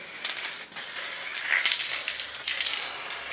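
Plastidip sprayed from an aerosol can onto a car body, a close, loud, steady hiss broken by a few short pauses between passes, with no talking.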